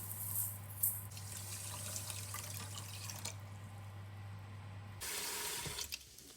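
Millet rice being rinsed in water for a Tamil-style kanji, with a steady running-tap wash and splashing that shifts to a louder rush near the end, over a low hum and no talking.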